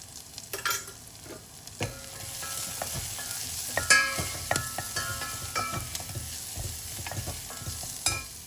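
Onions sizzle in a hot pan with turmeric for tomato sambar, with scattered crackles, while a spoon clinks and scrapes now and then as they are stirred. No one speaks.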